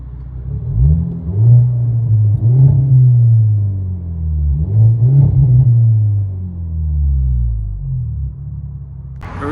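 A 2025 Hyundai Elantra N turbo's engine and exhaust rev up and drop back three times in a row, each blip a loud, deep rumbling swell heard close up with no talking.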